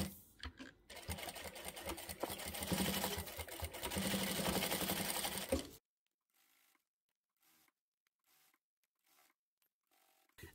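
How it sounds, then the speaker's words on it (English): A sewing machine stitches a half-inch seam on a reversible oven mitt, running in a fast steady whir for several seconds before stopping, followed by faint scattered handling noises. "I'm just going to start sewing where the loop is, do a back stitch"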